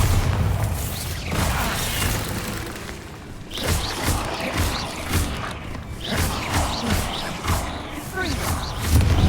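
Bombarda explosion spell booming repeatedly in Hogwarts Legacy combat, dense thuds and blasts layered over continuous rumbling battle noise with no pauses.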